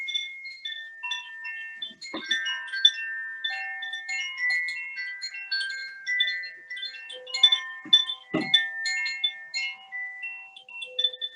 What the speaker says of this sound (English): So this is not an ordinary chime. It's perfectly tuned.